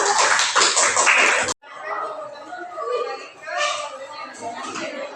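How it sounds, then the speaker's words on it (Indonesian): Classroom of students clapping for a group after its presentation, a brisk burst of close applause that cuts off abruptly, followed by chatter and light laughter. "Tepuk tangan, beri tepuk tangan untuk kelompok 1."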